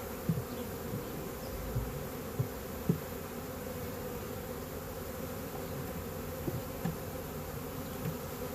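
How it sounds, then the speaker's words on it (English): A swarm of a few hundred honeybees inside a box makes a soft, steady buzzing hum, faint and continuous, with occasional small knocks and bumps against the box. "Decent amount of bees in this box, but not a ton."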